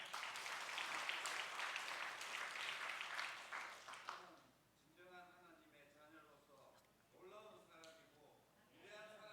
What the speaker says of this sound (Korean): 격려의 박수요.